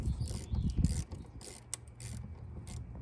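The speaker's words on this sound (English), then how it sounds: "So the next step is loosening these nuts on both sides or both terminals." A wrench loosens the battery terminal nuts on a 5th-generation Toyota 4Runner with a Duralast Gold 24F battery, giving close mechanical ratcheting and metallic clicks in short bursts, then a quieter steady rattle.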